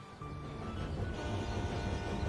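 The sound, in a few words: train passing by in the video game Tiny Rails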